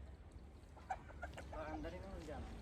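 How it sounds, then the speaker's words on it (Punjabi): Turkeys wandering a farmyard give soft warbling calls and clucks, faint and somewhat distant over a low steady background rumble. "ਆ ਟਰਕੀ ਫਿਰਦੇ ਪਏ ਆ ਉਹ ਪਾਉਂਦਾ ਰੌਲਾ"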